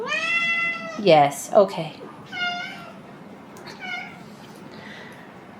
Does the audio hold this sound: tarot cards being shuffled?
no